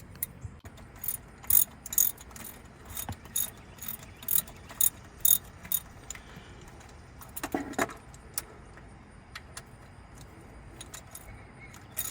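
A ratchet clicks in short bursts while snugging the bottom alternator bolts on a 2002 Ford Crown Victoria, close and crisp, with brief metallic clanks and pauses between strokes.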